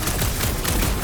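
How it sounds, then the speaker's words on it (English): Rapid gunfire aimed at a gunked-up reactor in the Marvel's Guardians of the Galaxy video game, a dense, loud volley of shots with heavy low rumble lasting about a second, no talking. "A couple of shots should bring it down."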